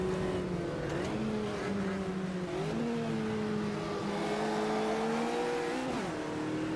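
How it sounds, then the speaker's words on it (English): IndyCar race car engines in Automobilista 2 at the Red Bull Ring howl loudly and continuously, their pitch wavering and climbing through gear changes, with one sharp upshift dip near the end. "Say a big goodbye to the IndyCars as they plough into turn 1 already."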